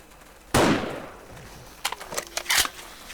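Gunfire in 7 Days To Die aimed at a zombie cop: one loud sharp shot that rings and decays, then a rapid cluster of several more cracking shots shortly after, with no talking.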